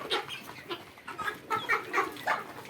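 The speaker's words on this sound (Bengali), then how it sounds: "এই যেগুলা তিথি মুরগি, চায়না মুরগি।" Tithi and China chickens cluck on a poultry farm, a close, busy stream of overlapping clucks and short calls with no voices.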